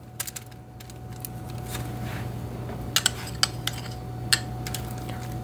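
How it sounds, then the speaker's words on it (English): A metal spoon's back rubbing butter over biscuit tops for a golden brown, heard as a quiet scraping with a few sharp little clinks and taps against a steady low hum, no talking. "This is just the back of my spoon, just rubbing it on so that it'll have a nice golden brown"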